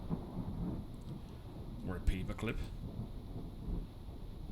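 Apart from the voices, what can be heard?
thunderstorm in video game Mind Echoes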